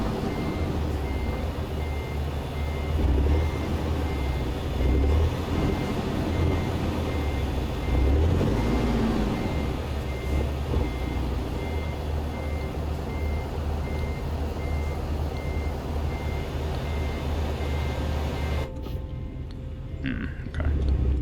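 A truck's reversing alarm beeps steadily and repeatedly in American Truck Simulator, loud and continuous over a constant low engine rumble, before cutting off near the end.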